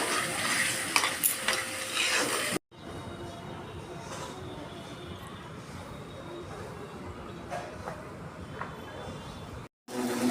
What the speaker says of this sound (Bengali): বন্ধুরা, এবার টমেটো দিয়ে দেবো আমি, এর সাথে একটু ফ্রাই করে নেব।